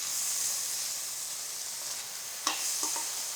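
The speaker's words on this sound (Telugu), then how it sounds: "కొద్దిగా పాలు పోస్తూ కలిసేలాగా వేయించుకోవాలి" Rice for a sweet Kashmiri pulao fries in a pan on low heat as saffron-soaked milk is added, producing an even hiss with a couple of brief stirring clinks and scrapes near the end.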